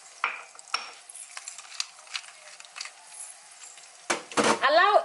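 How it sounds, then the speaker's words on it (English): Chicken pieces going into hot oil and butter in a pan: a few scattered clinks and soft sizzling, then a louder utensil scrape and spoon clatter near the end. "I'm going to add my chicken into the oil and butter"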